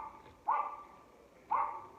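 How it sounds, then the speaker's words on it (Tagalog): Dogs barking in a neighborhood, two sharp barks about a second apart at moderate distance over a low steady background. "Ingay ng aso."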